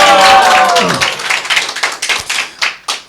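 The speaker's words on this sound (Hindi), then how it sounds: "एक बार जोर से चिल्लाकर, ताली बजाकर, हालेलुया बोलकर, जो भी कर लीजिए" An audience at a church testimony gathering shouts and cheers together, the voices fading after a second into scattered, close clapping that thins to a few isolated claps.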